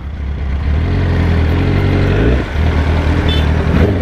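A Yamaha R1 sports bike engine idles steadily and loudly up close, a dense continuous rumble with one brief dip partway through, an older bike with a scratching clutch plate running on stale fuel.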